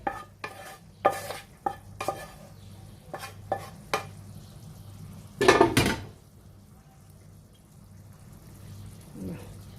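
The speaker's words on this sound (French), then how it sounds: "Voilà, j'étale bien mon riz comme ça." Scraping and tapping of a spoon spreading rice in a buttered gratin dish, with a series of short clinks and one louder scrape, over a faint background hum.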